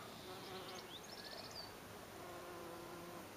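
Steady insect buzzing, fairly faint and continuous, with a low background hum and no voices.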